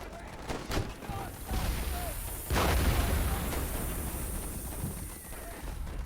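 Mortar fire in the video game Warfare Legacy gives scattered booming impacts and rumbling explosions amid a continuous dense battlefield din, with one heavy blast standing out partway through.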